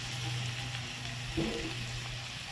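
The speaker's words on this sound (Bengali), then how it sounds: "এবার এটাকে একটু নেড়ে দেবো, কারণ এর মধ্যে তো জল দেওয়া যাবে না" Soya chili frying in a pan, stirred without any added water, gives a steady low sizzle with a brief stirring scrape partway through.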